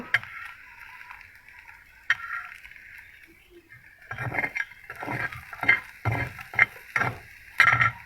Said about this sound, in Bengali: এখন এতে আমি ডিমটা ভেজে নেব।